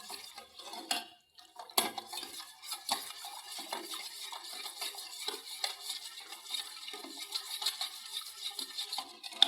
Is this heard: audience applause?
no